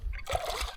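A sudden close splash and slosh of water as a bass strikes a lure at the surface of a clear desert river, brief and sharp, then quickly settling.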